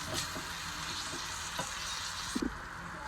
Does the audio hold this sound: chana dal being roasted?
yes